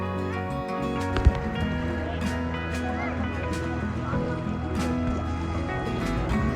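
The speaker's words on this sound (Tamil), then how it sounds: "போட்டில் வந்து கூட்டிகிட்டு போகிறாங்க." A speedboat carries passengers toward James Bond Island near Phuket, its engine droning steadily under rushing water and wind, with occasional splashes and thumps against the hull and voices talking in the background.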